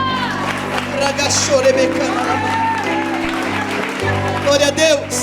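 Church congregation applauding during a Portuguese-language worship service, steady crowd clapping and scattered shouts of praise mixed with a speaker's voice over amplified music, fairly loud and continuous.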